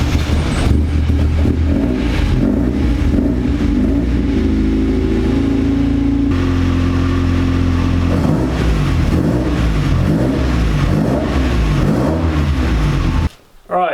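The Mongrel car's engine starts and revs up and down repeatedly, a loud, close, rumbling mid-pitched roar that swells and falls throughout before cutting off at the end.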